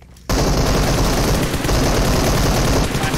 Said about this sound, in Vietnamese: Sao lại bắn vào xe tôi à bạn?